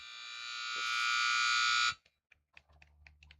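Timing buzzer at a sheepdog trial, a loud sustained electronic blare swelling for about two seconds and then cutting off abruptly, leaving faint clicks and background noise.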